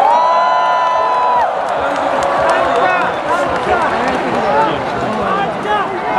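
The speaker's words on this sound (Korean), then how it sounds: "힘찬 박수와 함성을 부탁드리겠습니다" A large outdoor crowd at a Gwanghwamun candlelight protest rally in Seoul claps and cheers loudly for several seconds, with shouts and whoops rising throughout.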